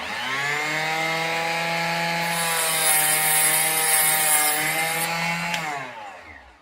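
Power trimmer cutting .22 WMR rimfire cartridge cases to length, a steady close whirring grind with a high harmonic whine that holds evenly for several seconds before winding down at the end.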